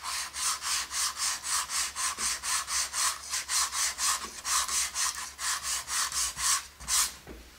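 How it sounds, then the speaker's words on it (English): Sandpaper rubbed back and forth over wet paint on a wooden faux wine cask lazy Susan, about twenty steady rhythmic strokes at close range with no talk. "let's sand through the wet."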